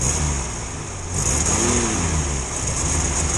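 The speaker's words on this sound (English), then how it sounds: "Yeah, that is misfiring." A Morris Minor car engine runs rough and uneven, misfiring with dips and surges in a steady mid-pitched drone. It sounds close, with a faint whine overhead and no talk.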